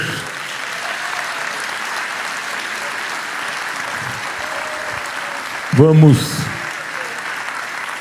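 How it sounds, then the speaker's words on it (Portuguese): An audience at a church missions symposium applauds in a sustained, even wash of clapping that fills the room, with a short spoken word rising briefly near the end. "Aplaudindo o Senhor."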